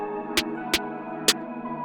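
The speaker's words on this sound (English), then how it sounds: "Got that counter snare as well" Counter snare sample in a mellow FL Studio 21 beat, three quick bright hits in an uneven rhythm over sustained melodic chords.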